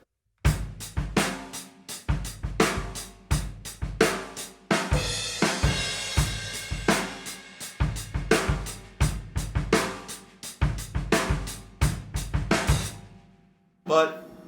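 A simplified drum kit beat from a song, with hi-hat and snare, keeps a steady, punchy groove of evenly spaced hits throughout, close and alone before stopping briefly near the end.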